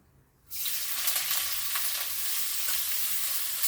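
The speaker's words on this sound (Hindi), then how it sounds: "अब इसमें हम प्याज को डाल देंगे।" After a brief quiet moment, a sudden loud sizzle erupts as onions hit hot oil with whole spices, then settles into a steady, close crackling fry.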